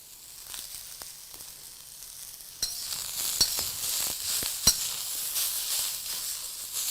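Cabbage, carrots and onion stir-frying on high heat for veg chowmein, starting as a quiet hiss then swelling into a loud, close sizzle with sharp clacks of a spatula against the pan.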